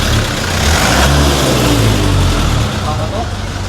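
Street traffic at a curved corner where a road is being worked on, with an e-trike, a tricycle and a Honda CR-V rolling past; a steady loud engine and road rumble runs throughout, with someone talking over it.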